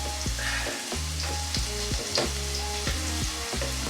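Fresh lumpia frying in oil in a pan, a steady dense sizzle with crackling pops running the whole time, close and fairly loud, with no talking.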